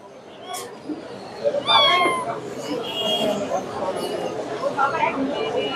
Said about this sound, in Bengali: এই জায়গায় আরো চমৎকার চমৎকার বিড়াল আছে ভাইয়ের কাছে